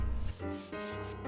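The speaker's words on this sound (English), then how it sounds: "And then while that dried, I sanded each of the sides down" A block of ipe hardwood is sanded by hand, a brief, close, steady rubbing scrape in two strokes with a short pause between.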